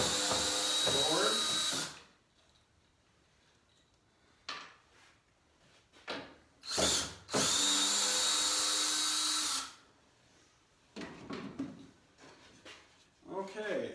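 A power drill backs screws out of a board on a wooden rabbit hutch, sounding in several loud whirring bursts of a couple of seconds each, separated by quieter gaps with clicks and handling noise.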